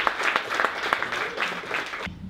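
A small audience gives a short burst of applause at a talk, dense clapping that stops abruptly near the end.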